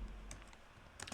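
A computer keyboard is tapped as code is entered for a Python/Django web app. A few quiet, close keystrokes click in quick bursts against a faint background hum.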